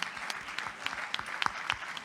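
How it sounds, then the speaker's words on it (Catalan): Scattered clapping from a small audience at a talk, with distinct individual claps rising above a soft wash of applause for about two seconds. "Gràcies per l'aplaudiment"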